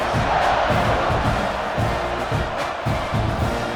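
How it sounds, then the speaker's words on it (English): A stadium crowd roars steadily through the whole stretch in College Football 26 during a Missouri at Texas A&M SEC tournament game. The dense, loud buzz of cheering holds even with only slight swells. "this crowd is buzzing after that last score"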